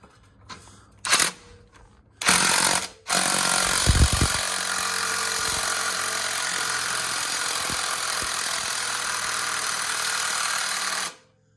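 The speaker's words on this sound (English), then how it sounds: "the torque wrench does lift it a little slow" Steady mechanical whir of a powered torque wrench driving an off-road scissor jack upward, running loud and continuous for several seconds after a few short bursts and clicks, with no talk over it.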